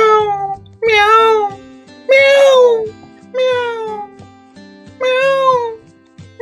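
Four drawn-out, wavering kitten meows come one after another, close and clear, over soft low sustained musical tones.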